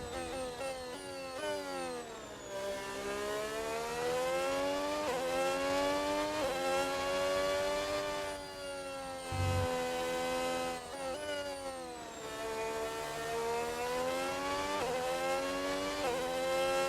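Simulated race car engine from a racing video game during a lap at Zandvoort, a steady high-pitched whine that rises and falls smoothly with throttle and gear changes, loud and continuous with no talk over it.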